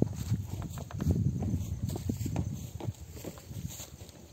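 A horse on a farm clip-clops with a run of uneven hoof strikes, fairly close and moderately quiet, with no voices over it.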